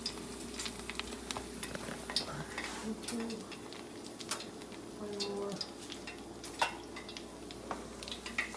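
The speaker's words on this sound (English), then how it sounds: "See them sizzling." Hot oil sizzles steadily as egg rolls fry, with scattered crackles and light clinks of utensils, close by.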